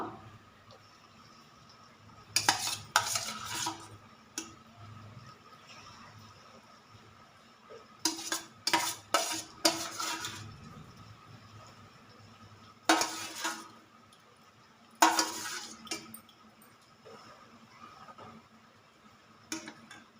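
Peanuts frying in peanut oil while being stirred, a faint sizzle beneath intermittent scraping and clinking of a spoon against the pan, close by.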